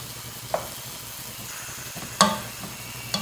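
Chicken fillet with vegetables and chickpeas sizzles steadily in a pan over low heat, with a few brief clinks and scrapes of stirring standing out above the constant frying hiss.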